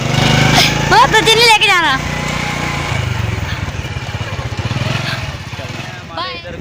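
A motorcycle engine runs steadily at idle after being started in a village, a low throbbing hum under close voices talking throughout.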